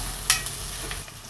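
Onions roast in oil with a pinch of salt for an Indian pepper curry, giving a soft, steady sizzle with one sharp scrape of a spoon early on and a few lighter stirs, no voices.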